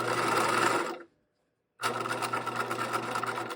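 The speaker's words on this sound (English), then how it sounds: "I'm going to stitch along my stitch lines, back stitching, sewing like there's no tomorrow" A sewing machine stitching the waistband of a pair of shorts runs in a steady, humming whir, stops for under a second, then starts again and keeps running, close and clear with no talk.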